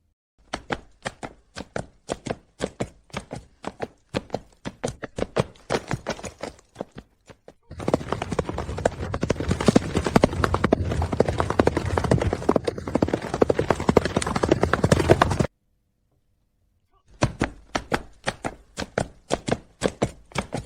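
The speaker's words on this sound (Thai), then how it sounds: "นี่มันจูงม้าเดินเล่นชัดๆ" An old horse's hooves clip-clop in a steady walking rhythm, sharp and close, first alone, then under a dense busy layer of sound that stops suddenly, then alone again after a short silence.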